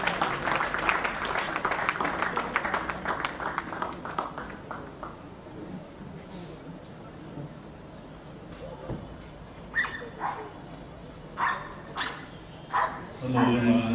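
A crowd claps for a police K9 dog display at a Lagos State Police Command K9 center, applause building then fading, followed by several sharp, close dog barks and a voice speaking.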